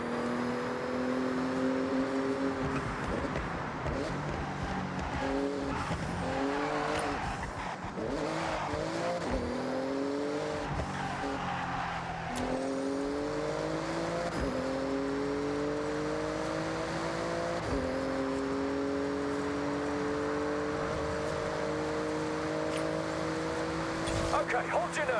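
A Porsche in the Forza Horizon racing game revs hard through repeated gear shifts, the engine note climbing and dropping again and again with tire squeal, under steady talk from a person.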